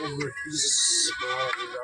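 Goats bleat at a weekly livestock market by the roadside, a couple of loud close wavering cries in quick succession, with people talking over them.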